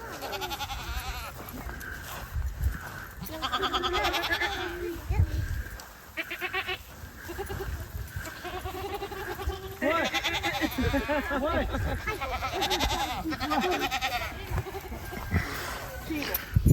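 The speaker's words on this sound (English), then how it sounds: "Here come the goats." Goats bleat loudly and repeatedly on a Florida farm, wavering cries close by, with people talking over and between the calls.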